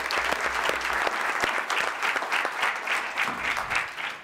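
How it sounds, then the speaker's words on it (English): An audience at a board of commissioners meeting claps steadily for several seconds with dense, even applause that fades slightly toward the end. "I think they deserve a round of applause from all of us"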